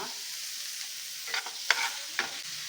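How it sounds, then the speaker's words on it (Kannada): Tomatoes salted in a pan for a paneer pepper dry fry cook over a faint, even frying hiss, with a few soft scrapes and taps of stirring. "ಟಮಾಟೆನ ಸ್ಮ್ಯಾಶ್ ಆಗೋವರೆಗೂ ಫ್ರೈ ಮಾಡ್ಕೊಳ್ಳೋಣ."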